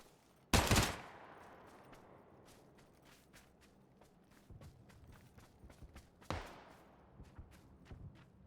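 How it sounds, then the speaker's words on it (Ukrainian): Gunfire during a PUBG match on the Sanhok map, a few sharp loud shots with quieter distant reports and footstep-like taps between them, no talking. "В синьці десь чел стріляє"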